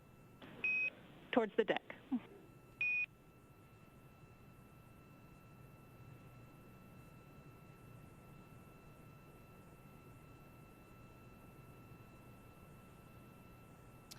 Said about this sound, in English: So what we heard was those beeps are Quindar tones